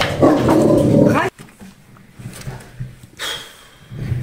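Indoors at a home, a dog barks loudly through a window at another dog outside, a close burst of barking and yelps that drops to quieter rustling and whines.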